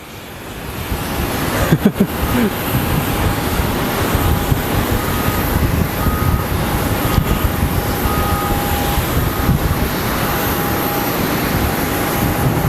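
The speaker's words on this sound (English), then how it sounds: "we have a Frontier Airlines pushing back, probably 4 hours late and broken down already" A Frontier Airlines airliner pushes back from the gate at Phoenix Sky Harbor Airport. It gives off a steady, even whine and hum with a faint tone on top, and a few brief clunks come early.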